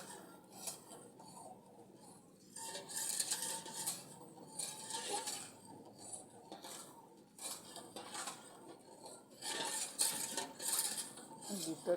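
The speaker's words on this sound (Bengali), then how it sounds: "এবার এটাকে নেড়ে নেড়ে একটু মোটা হয়ে যাবে।" A spoon scraping and clinking around a pot of milk with new jaggery being stirred to thicken, irregular soft metallic scrapes and knocks close by, fairly faint, with no talking.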